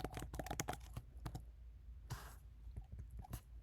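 Rapid, uneven keystrokes as code is entered on a computer keyboard during a programming session, close and fairly quiet, with short pauses between bursts of clicks.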